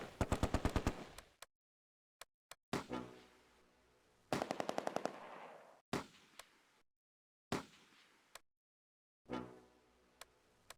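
Close Combat: A Bridge Too Far wartime game gunfire: rapid machine-gun bursts and sharp single shots come in separate volleys with echoing tails, loud against silent gaps.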